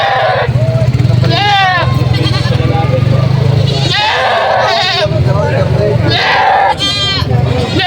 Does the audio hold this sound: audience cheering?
no